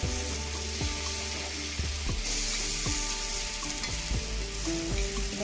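Fish wrapped in banana leaf frying on a tawa, a steady close sizzle under a few clanks and scrapes from flipping the parcel.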